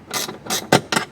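Ratchet spanner clicking in four quick bursts while tightening mounting bolts on a roof top tent, close and crisp with no talk.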